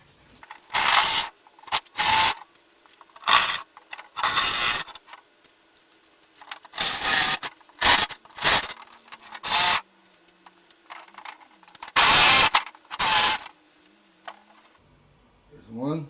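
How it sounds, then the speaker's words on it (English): A Sawzall reciprocating saw cuts through sawhorse wood in repeated loud bursts of rasping blade noise, separated by short quiet pauses, close by. "So now I'll take my Sawzall and cut everything loose."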